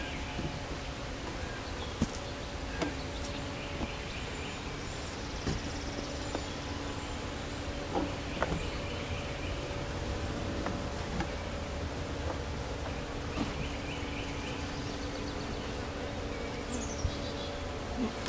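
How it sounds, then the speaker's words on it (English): Bees buzzing steadily around a hive outdoors, a constant low drone with individual insects passing close by, faint background rumble. "Bees are around. They're actually kind of interested in you guys, the camera."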